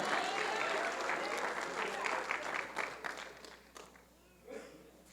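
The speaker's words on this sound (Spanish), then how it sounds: "Denle un aplauso al Señor, porque Dios nos habla en todo momento y en todo lugar." A church congregation claps in loud, sustained applause that thins and fades after a few seconds, leaving quiet room sound with a faint voice toward the end.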